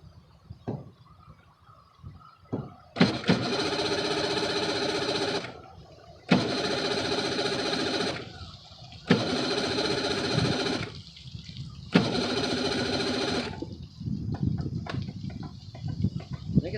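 A boat motor at a launch is cranked in four separate bursts of a few seconds each, with short quiet pauses between them, heard close up and failing to catch.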